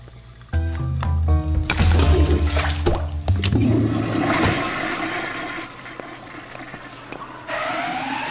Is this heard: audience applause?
no